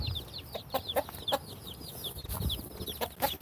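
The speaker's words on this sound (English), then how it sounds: "There's Rocco the rooster, Ray." A rooster clucks softly in short, irregular bursts close by outdoors, with rapid high peeping calls scattered throughout.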